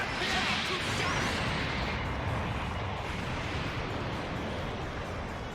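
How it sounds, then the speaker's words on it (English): A big explosion in the Dragon Ball FighterZ fighting game, a loud sustained roaring blast with a rushing whoosh that fades gradually over several seconds. "That's a big explosion there."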